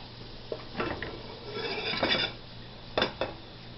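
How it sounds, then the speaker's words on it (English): Noodles tossed and coated in a pan for goulash: several close clattering scrapes and knocks of a utensil against the pan, irregular and moderately loud, with no talk. "And then you're just going to toss your noodles into it. And then you just coat them."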